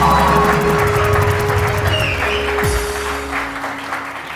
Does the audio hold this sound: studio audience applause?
yes